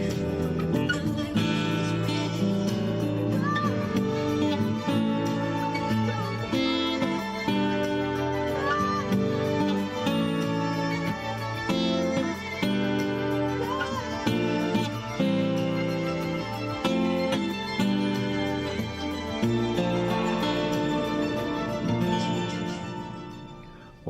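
Acoustic guitar strumming the chords of a song, moving through major and minor seventh chords in a relaxed, steady pattern, played alone for over twenty seconds and ending on a held chord.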